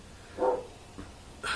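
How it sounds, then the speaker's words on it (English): A neighbor's dog barks a few times in the distance, one clear bark, a faint second and a third cut off, indoors and muffled. "that is my neighbor's dog barking"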